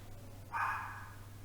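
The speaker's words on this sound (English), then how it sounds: "once I let my dog stop barking" A single short, nasal dog bark or yip rings out once from a little distance, leaving faint background hum behind it.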